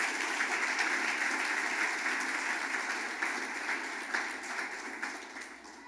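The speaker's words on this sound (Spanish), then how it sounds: "Denle un aplauso al Señor, por favor." A church congregation claps in steady applause, a dense wash of many hands that holds level for several seconds and then gradually fades, with a faint voice underneath.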